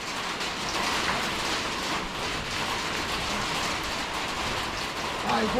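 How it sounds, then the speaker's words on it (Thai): Steady rain falls at a fishing spot on the Krasiao Dam reservoir in a continuous broadband hiss, even and fairly close, with no voices and no breaks. "ฝนก็ตก"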